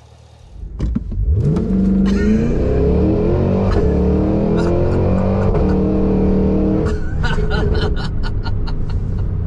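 A 2023 Cadillac Escalade V with a high-powered Corvette-derived engine accelerating hard on the road, rising from a low rumble into a loud, sustained climbing roar that holds strong, then shifts gear near the end.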